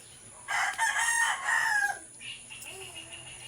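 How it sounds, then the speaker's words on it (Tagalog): A rooster crows loudly and close by among farm chickens at feeding time, one long drawn-out crow followed by softer clucking. "kumakain na yung mga alagang manok"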